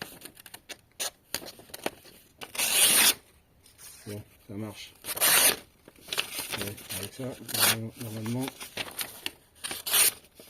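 Repeated rasping strokes of a blade scraping across an abrasive surface, in irregular bursts, interspersed with someone talking.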